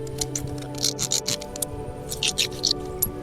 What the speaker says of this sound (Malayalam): ഈ കോയിൻ നമുക്ക് ഈ കല്ലിലിട്ടൊന്ന് ഒരതി നോക്കാം അല്ലേ?